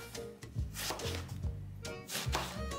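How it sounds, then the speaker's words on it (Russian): A knife on a cutting board cuts an ingredient into cubes for a Spanish-style dish, giving a few irregular close chopping knocks with no talk. "И нарезаю его кубиками."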